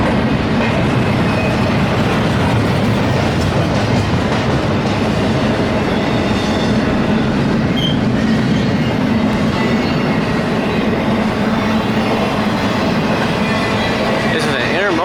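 An intermodal freight train rumbles slowly past at close range by a station in Flagstaff, with a steady roar and faint rhythmic clatter of wheels on rails.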